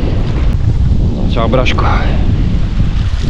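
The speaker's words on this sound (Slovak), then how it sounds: "Dneska teda extrémny vietor fúka" Strong wind blowing outdoors by the water at a carp fishing spot, a loud continuous buffeting rush against the microphone with brief talk in the middle.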